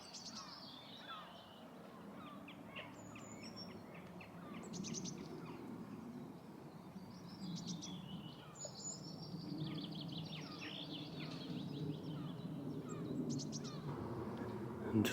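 Birds sing and chirp in a Scottish village, with short high twittering phrases repeating from a moderate distance over a soft outdoor rumble, without speech.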